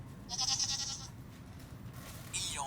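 A Tiptoi talking pen on a children's farm book plays a recorded goat bleat: two short, thin, high-pitched bleats, fairly loud and close, with no voice over them.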